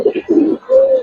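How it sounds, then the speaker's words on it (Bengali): A Giribaz pigeon gives a short, close coo in a few rounded pulses ending in a longer held note, loud and alone. "বড় মাথার কবুতর, এই যাই ডাকা শুরু করছে।"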